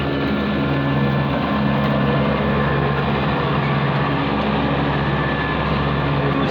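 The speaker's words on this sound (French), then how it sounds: "je semble entendre un tracteur qui arrive" An approaching tractor gives a steady, loud, low engine drone with a throbbing harmonic rumble that holds throughout, close by, with no voices.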